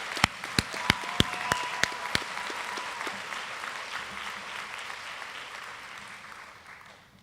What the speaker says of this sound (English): Let's give all these award winners a round of applause.